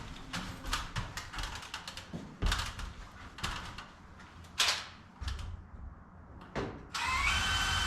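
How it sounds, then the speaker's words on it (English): A power drill bores a hole up under a shed roof, heard as repeated short bursts and knocks at close range in a quiet space, ending in a steady louder run. "I'm gonna go up and drill a hole at the farthest point the 90 would be"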